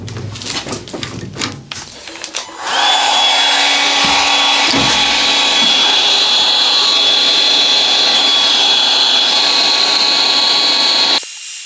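A Milwaukee M18 cordless heat gun switches on after a few clattering knocks of a workpiece being clamped, then blows a loud, steady whine with a high fan tone for about nine seconds before cutting off abruptly.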